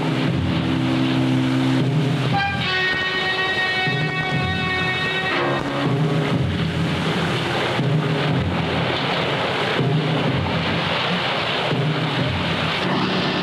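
Trawler engines run at sea, a constant heavy droning rumble with broadband wash throughout, joined briefly in the middle by a cluster of steady tonal hums.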